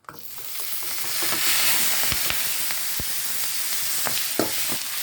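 Vegetable pitha fries in oil in a pan with a loud, continuous sizzle. Sharp clicks and taps of a utensil break in now and then, and no voice is heard.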